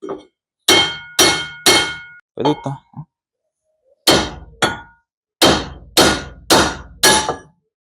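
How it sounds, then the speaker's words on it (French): Hammer blows on the front brake disc of a Peugeot 106 to knock it loose, about nine sharp ringing metallic strikes in uneven bursts with pauses, close and loud, with a brief spoken remark between them. "Coup de marteau, certainement. On va le décaniller."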